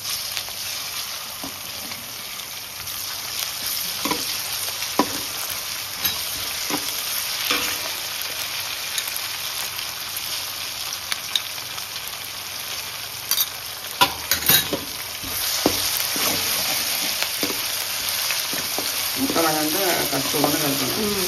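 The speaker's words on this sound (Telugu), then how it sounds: "ఇది అల్లం పేస్ట్ చాలు, కలుపుకోవాలి మంచిగా." Fried onions being stirred with ginger paste in a pan while making a spicy fish curry: continuous sizzling with repeated scraping and clanking of a spoon, some sharper knocks, and speech at times.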